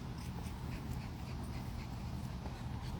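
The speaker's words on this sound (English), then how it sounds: "My dog gets very excited by all the doggies." An excited dog on a tree-lined boulevard walk pants rapidly and whimpers close by, the steady breathy panting continuous for about three seconds under low outdoor rumble.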